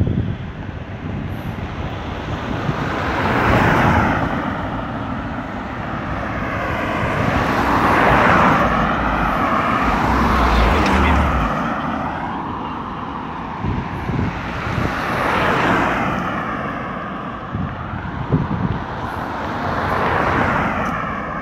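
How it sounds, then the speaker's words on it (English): Aircraft engine noise at Grantley Adams International Airport in Barbados, a steady broad roar that swells and fades in slow waves over wind, with distant traffic beneath and no talk. "Seawell, Grantley Adams International Airport,"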